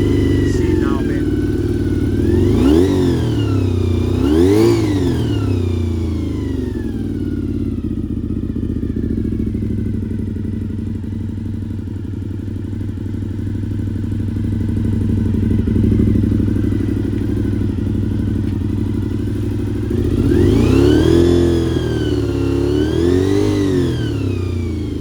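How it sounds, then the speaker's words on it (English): A Honda VFR400 NC30 motorcycle engine running during restoration with a suspected fuel issue, idling close and loud, then rising in two sharp revs near the start and two more near the end, with someone talking over it. "So we've got the bike running here."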